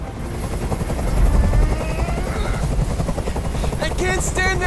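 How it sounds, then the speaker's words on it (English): A helicopter hovers loudly nearby in the video game Detroit: Become Human, its rotor thudding in a steady pulse, while a voice starts speaking near the end. "Tell that helicopter to get out of here."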